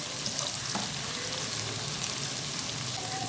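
Chopped onions frying in oil in a pan as the base for a spicy fish karahi, a steady close sizzle and crackle running evenly throughout with no talking.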